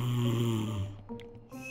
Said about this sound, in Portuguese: E o ronco dele tá altíssimo.